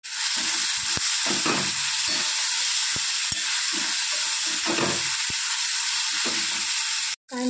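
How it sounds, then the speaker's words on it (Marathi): Onion and tomato sautéing in a pan for homemade misal, a constant loud sizzle and hiss with repeated scraping stirs and utensil taps, no talking. "आता त्यामध्ये टोमॅटो टाकून घ्यायचं आणि ते चांगलं परतून घ्यायचं"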